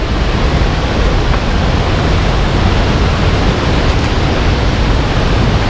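Bagongbong Falls in Biliran, a waterfall pouring in an unbroken roar: a dense, steady rush of water close by, constant in level throughout with no pauses and no voices.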